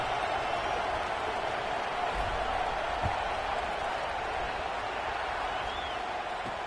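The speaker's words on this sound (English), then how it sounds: "this crowd is buzzing after that last score." Crowd noise filling a football stadium during an Ohio State versus Washington game, a dense, steady roar of many voices that continues evenly throughout, with no single voice standing out.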